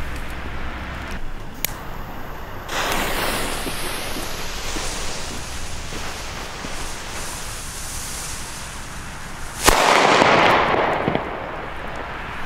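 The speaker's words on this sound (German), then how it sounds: "Anfangen tun wir jetzt hier mit diesen Funke A-Böllern." Funke A-Böller firecrackers, German New Year bangers, go off outdoors with sharp bursts of noise, one blast around the start and a louder crack near the end followed by a lingering rush, with steady background noise between.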